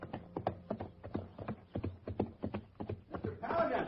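Horse hooves clip-clop in a steady, close walking rhythm, a radio-drama western sound effect, with a brief rise in other noise at the end.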